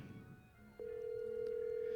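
A phone call rings out with a steady, quiet ringback tone that starts partway through and holds to the end.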